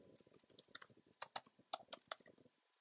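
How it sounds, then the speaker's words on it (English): Keys clatter on a computer keyboard in a quick, irregular burst of close clicks, faint overall and fading out near the end, with no talk. "So type that in."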